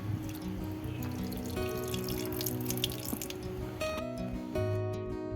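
Water streams and splashes into a pan of marinated chicken, a steady gurgling pour that rises slightly in pitch as it fills.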